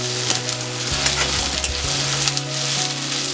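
Chopped onions with green chillies frying in a pan while being stirred slowly, giving a close, steady sizzle with soft scraping strokes and a low hum underneath. No voices.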